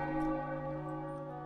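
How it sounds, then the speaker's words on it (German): A church bell tolls in the video game The Case Book of Arne, a single sustained, ringing strike fading slowly, faint and alone. "Schon wieder die Glocke."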